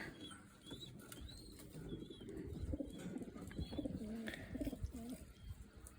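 Pigeons in a loft holding about thirty-two birds, soft repeated cooing from several birds close by with occasional wing flaps, a steady low murmur throughout.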